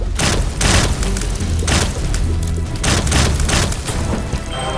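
Bomb explosions in The Binding of Isaac video game come as loud, repeated booming bursts over a dense, busy game soundtrack, several blasts spread across the stretch with no talking.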